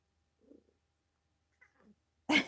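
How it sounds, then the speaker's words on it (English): Soft, faint cat meows come in small bursts, followed by a louder, sharper cry at the end, with silence between. "He's meowing at me now."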